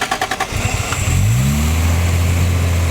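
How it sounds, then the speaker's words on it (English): A Toyota Supra with a 2JZ inline-six, tuned to around 600 hp, cranks with a rapid ticking starter rhythm, then fires and settles into a loud, smooth, steady idle heard close up. "let's crank the engine up and hear the sound"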